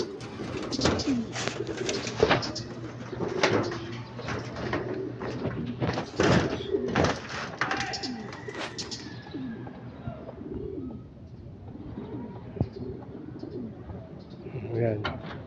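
Pigeons in a large cage coo repeatedly in low rolling phrases, close by, with clattering and flapping noises and a person talking over parts of it.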